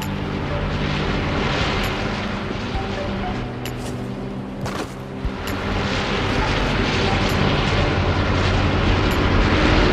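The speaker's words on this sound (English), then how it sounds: "Only a few people were able to hear the plane sounds at the right time" Airplane noise in the Fortnite battle royale game, a loud, dense roar of engine rumble and rushing air that stays continuous throughout with a few sharp clicks.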